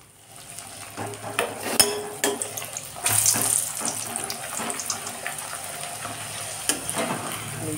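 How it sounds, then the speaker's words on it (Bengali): Luchi fry in hot oil in a kadai, giving a continuous close sizzle and crackle with occasional bursts and light utensil clicks throughout. "লুচি ভাজছি।"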